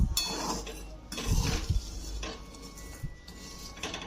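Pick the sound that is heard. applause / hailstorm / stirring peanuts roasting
stirring peanuts roasting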